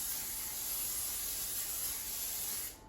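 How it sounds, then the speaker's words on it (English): A continuous spray of nonstick cooking spray onto a pie dish hisses steadily for nearly three seconds, close and bright, then cuts off abruptly. "first I'm going to spray the pie dish with a nonstick cooking spray"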